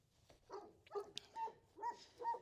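A farm dog barks in several short bursts at cats, fairly close, with brief whimpering yips between the barks.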